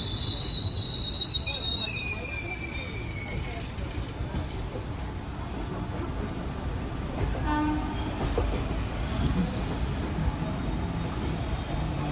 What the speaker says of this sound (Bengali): চম্বল এক্সপ্রেসের রেক শান্টিং হচ্ছে এখন।